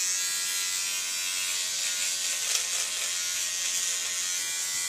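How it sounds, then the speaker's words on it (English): A Conair electric shaver with a pivoting head buzzes steadily and close, an unbroken high whine held at an even level with a slight swell midway. "the pivoting head on this Conair shaver is just awesome for"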